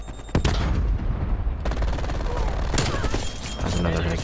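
Loud, dense bursts of assault rifle gunfire fill a video game match, with sustained rapid shots and heavy booms over a noisy background.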